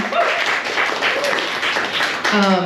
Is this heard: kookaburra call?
no